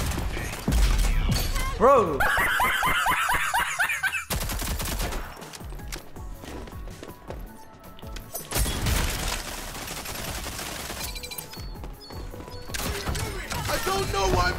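Bursts of gunfire, shotgun blasts among them, crack through a fast match of the shooter Rogue Company, loud and close in clustered volleys, with players shouting and talking over the fighting.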